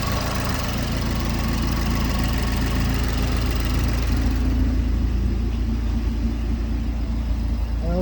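A Mazdaspeed 3 engine idles steadily and close, a low, even rumble with a faint rhythmic chug that continues throughout without any talking.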